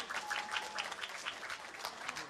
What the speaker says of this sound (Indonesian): Tepuk tangan dulu untuk adik-adik semua.